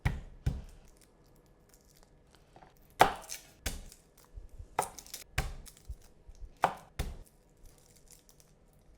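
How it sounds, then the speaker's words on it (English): A knife roughly chops garlic cloves on a cutting board, giving several sharp, close thuds in irregular bursts with quiet gaps between them. "I am just going to roughly chop them up"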